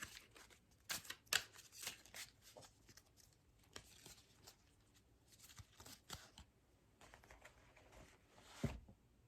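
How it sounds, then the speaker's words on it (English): A deck of cards being shuffled and handled in a quiet room, giving a series of soft riffling bursts and light flicks spread across several seconds, faint and close with no voices. "I just want to pull one more card from this deck to wrap it up."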